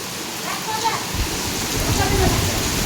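Heavy rain pours down in a steady, loud hiss that swells after a quieter opening second, with children's voices carrying faintly through the downpour.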